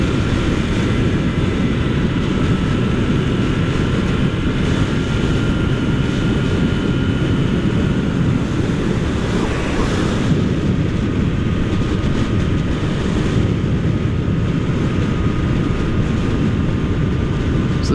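Yamaha FZ-09 motorcycle accelerating up to highway speed, a loud continuous engine and wind roar sustained evenly throughout with no break.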